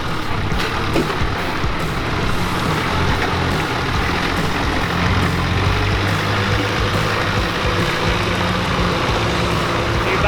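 A 4WD vehicle drives through muddy waterholes on a clay track in the Coromandel, a steady, loud mix of engine rumble and sloshing, splashing water with a windy, noisy wash throughout and no clear speech.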